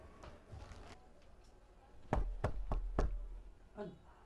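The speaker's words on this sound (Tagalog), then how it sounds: "May kumatok." Knocking on a door in a home: a quick series of four firm knocks, fairly close, after a stretch of quiet room noise, with a faint fainter tap near the end.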